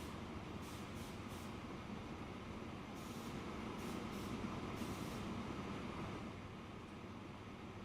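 Train rumbling in on a rail line in the city-building game Transport Fever 2, hauling stone and goods; a steady, loud rolling rumble with brief high hissing bursts like air brakes, no talk.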